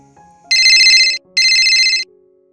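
A phone ringtone sounds in two loud, sustained bursts with a short gap between them, close and clear against a quiet room, with no talking.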